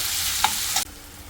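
Onions sizzle and fry with salt in a hot pan, a steady bright crackle with a couple of stirring clinks, then the sizzle drops back quieter near the end; no voices.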